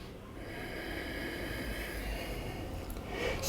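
Deep breathing during a yoga pose, a long sustained airy exhale that carries steadily and swells slightly at the end, close and fairly quiet with no words spoken.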